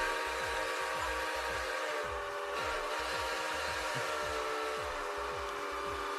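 Train sound effect used as a Twitch hype train alert: a steady run of rhythmic wheel clacks beneath a sustained whistle-like tone, loud and continuous with no talking.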